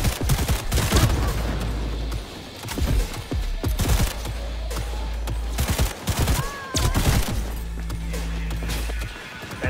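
Rapid bursts of automatic turret fire ring out in the game Cyberpunk 2077, loud and close, repeated volleys separated by short gaps with heavy low thuds and scattered impacts.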